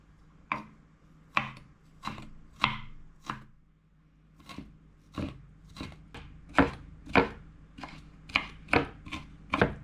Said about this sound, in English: we'll turn this way and mince it into small pieces